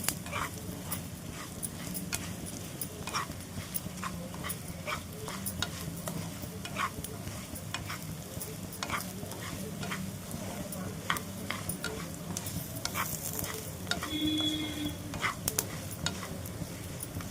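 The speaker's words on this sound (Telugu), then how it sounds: "మీ పోపు కూడా చిట్పట్లాడుతుంది" Mustard seeds, green chillies and spices crackle and sizzle in hot oil for tempering, with scattered sharp pops over a steady frying hiss, close and continuous.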